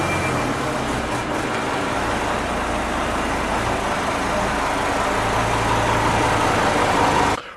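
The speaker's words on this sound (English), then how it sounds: "I'm now just gonna hopefully drive it into the workshop and onto that ramp" A VW Touareg V10 TDI diesel engine runs steadily as the vehicle is driven slowly into a workshop, a loud, continuous low rumble and drone that holds the whole way through before cutting off abruptly.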